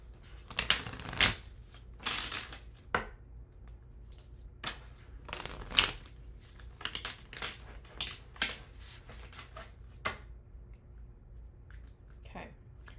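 Oracle cards being shuffled by hand, a run of crisp riffling and flicking bursts with slapping taps, close and moderately loud, repeating irregularly throughout with no talking.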